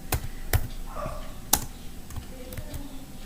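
Keys clack on a computer keyboard while a Java command is typed, a handful of sharp, close strokes spaced irregularly over a faint room hum.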